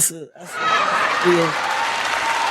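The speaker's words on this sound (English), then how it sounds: "Let's clap it up for San Diego for that, man." Sustained applause from a live audience in San Diego fills the space, a dense, steady wash of clapping and crowd noise that follows a brief spoken word and continues with some cheering over it.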